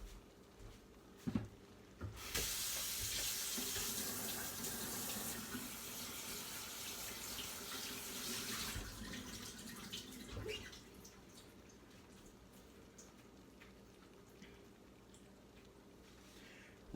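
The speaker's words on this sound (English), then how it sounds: "Rinse and drain your pasta so you get some of the excess starch and whatnot out." Water runs from a kitchen sink tap while pasta is rinsed and drained, a steady rushing stream lasting several seconds with a few knocks at the start and fading splashes and drips afterward, with no voices.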